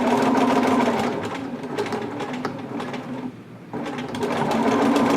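A sewing machine stitches fabric in a rapid, even mechanical chatter, slows briefly to a pause, then speeds back up to full running noise.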